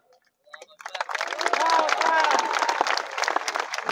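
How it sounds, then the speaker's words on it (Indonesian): Religious lecture audience in Riau breaks into applause after a brief quiet moment, clapping starting sparse and hesitant then swelling into a fuller crowd with cheering voices and murmuring mixed in. "Tengok orang ini ragu-ragu tepuk tangan."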